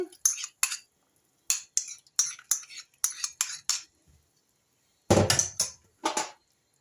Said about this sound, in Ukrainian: Все гарненько розмішую і буду варити далі.